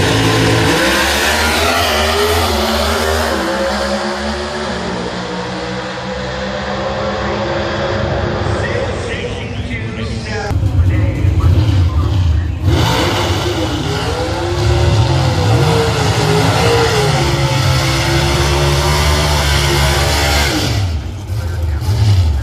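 Pro stock drag racing cars at a drag strip accelerate with a loud, continuous engine roar that surges partway through and fills the whole stretch.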